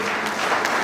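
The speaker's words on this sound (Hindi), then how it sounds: "मैं चाहूंगा कि हमारे कॉलेज के सभी विद्यार्थी एक बार जोरदार तालियों के साथ हमारे" Loud, steady applause from college students thanking guests at a cultural program, a dense wash of clapping filling the whole short stretch.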